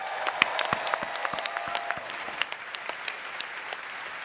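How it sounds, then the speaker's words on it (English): Audience of about 4,000 team and community members applauding at a Canva event in Sydney, a steady wash of many hands clapping with sharp individual claps standing out, moderately distant and sustained throughout. "Round of applause for you all."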